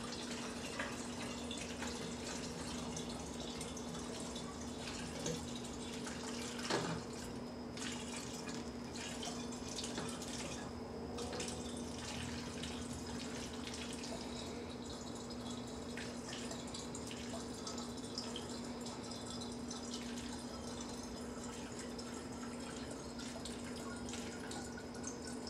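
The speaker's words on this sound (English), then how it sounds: "I'm hoping the water mixes thoroughly with the alcohol as I pour it in." Tap water streams into a container of alcohol, a long steady pour with soft trickling and occasional drips and clinks, faint and uninterrupted, with no talking.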